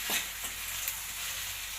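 Small-cut tomatoes being stirred as they fry in a pan for a paneer curry, a brief soft sizzle with a few light scraping strokes.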